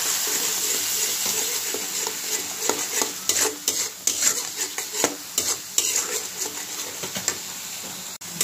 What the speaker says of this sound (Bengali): মশলাটা একটু ভালো করে কষিয়ে দিলাম